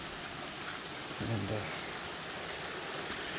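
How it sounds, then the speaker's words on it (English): A creek in the Blue Ridge Mountains flows with a constant, even hiss of water, steady and moderately loud, while a man briefly starts to speak partway through. "I just love the sound of that water."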